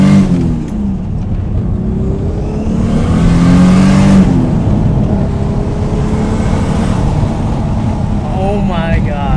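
A Toyota Supra accelerating hard with its turbo, a steady loud engine drone that rises in pitch from inside the cabin, with people talking over it.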